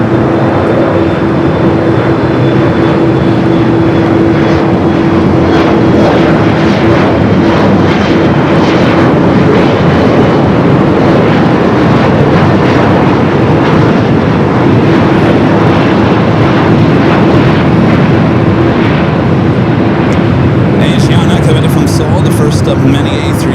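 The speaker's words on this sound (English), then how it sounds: "Of many A380 Supers we'll see arrive and depart here today, touching down there 24 right." Airbus A380 touching down on runway 24 right at Los Angeles airport, a loud, steady roar of engine and rolling noise that lasts throughout, with a brief clatter near the end.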